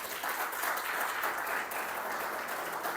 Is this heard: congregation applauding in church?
yes